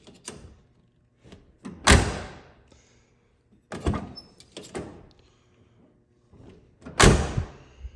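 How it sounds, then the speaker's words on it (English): Car door on a turbo Buick Grand National with freshly cleaned hinges, swung open and shut several times, with creakless swings ending in solid thunks, the loudest slams near two and seven seconds, close and clear. "Listen to this door right here. All I did was just clean the crap out of the hinges."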